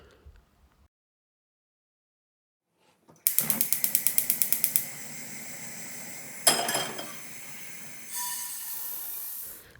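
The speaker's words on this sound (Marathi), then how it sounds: "तीळ भाजताना आपल्याला हे सतत हलवायचे आहेत" White sesame seeds dry-roast in a pan over medium heat, giving a close sizzling hiss with a quick run of crackling pops and a scrape as they are stirred, after about three seconds of near silence.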